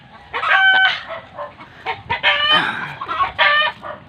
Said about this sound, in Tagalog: Dito tayo sa loob ng ating kulungan ng manok.